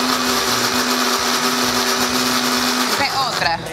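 Kitchen blender purees tomatoes with a loud, steady whirring drone that shifts pitch and winds down near the end, while voices talk over it.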